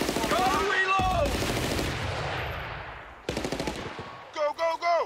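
Machine gun fire in the Xbox 360 video game Battlefield: Bad Company, loud bursts of rapid gunfire with a long rumbling echo trailing off, then another sharp burst and several short shots.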